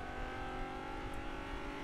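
A car engine in a driving video game holds a steady high revving drone as the vehicle speeds along a road, constant and moderately quiet with no voices.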